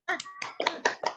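Five quick bursts of hand clapping in an uneven, patterned rhythm from a class of children leading a spirited group clap in a classroom, close and fairly soft, with a short murmur of voices between the opening claps.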